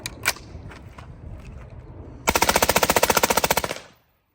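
A couple of seconds of quiet shuffling, then a loud, rapid burst of full-auto fire from an HK G36 rifle, about fifteen evenly spaced shots, cutting off abruptly into silence.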